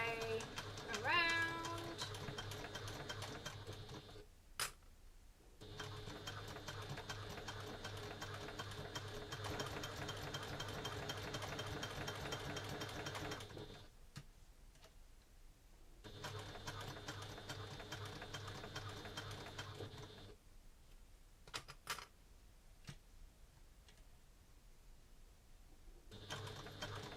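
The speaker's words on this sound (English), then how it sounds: "we're going to sew around that curve." A home sewing machine stitches around the curved edge of a fabric coin purse, running in long steady whirring stretches broken by short pauses, with a faint cat meow near the start.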